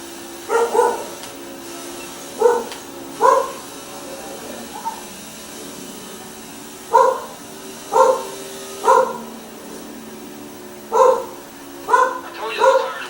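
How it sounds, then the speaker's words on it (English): A small 32-pound dog barks in repeated sharp pairs and short bursts, fairly close and loud, over a low steady engine-like drone from a race broadcast. "He is a little 32-pound dog."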